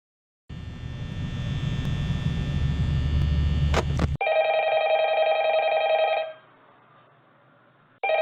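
A telephone rings in the Five Nights at Freddy's video game: a low droning hum gives way to a shrill electronic ring that sounds steadily for about two seconds, then fades to quiet before briefly returning at the end.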